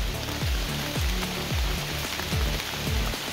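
Steady rain pours down across the whole recording, a dense hiss with heavier drops thudding repeatedly on a nearby surface.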